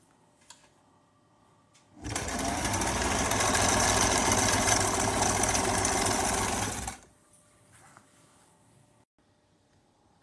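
A sewing machine runs a continuous straight seam on shalwar fabric, a steady loud whirring burst of about five seconds that starts and stops abruptly in an otherwise quiet room.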